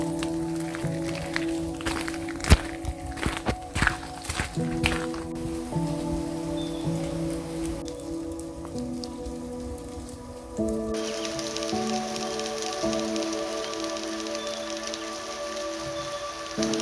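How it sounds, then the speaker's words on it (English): Light rain dripping in a wet, mossy winter forest, soft steady patter with scattered louder drops close by, faint and continuous. "it's just lightly raining and everything is dripping wet and covered in moss"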